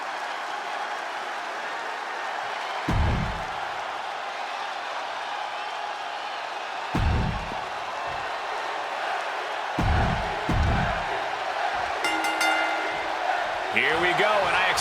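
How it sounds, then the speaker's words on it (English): Steady arena crowd roar from the WWE 2K25 video game ahead of an Extreme Rules match with Becky Lynch, Asuka, Rhea Ripley and Dakota Kai, continuous and broad with a few low thuds and swells, while a commentator talks over it. "The crowd is on their feet for the Empress of"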